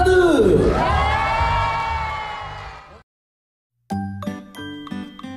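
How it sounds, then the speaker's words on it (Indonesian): An audience at a Trans Studio indoor show cheers and shouts loudly for about three seconds, then after a pause jingling, chiming music starts. "saya minta tepuk tangan dan teriakan dari Anda sebanyak mungkin"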